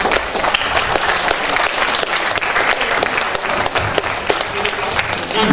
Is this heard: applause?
yes